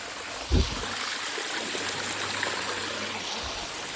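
A mountain stream flows on Girnar as a water bottle is filled from it: a continuous close rushing and gurgling of water, opening with a single low thump, without talk.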